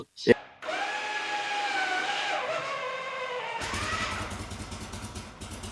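A brief knock, then the electric starter of a 1966 Harley-Davidson Electra Glide whirring and straining for a few seconds before the engine fires and settles into a rough idle.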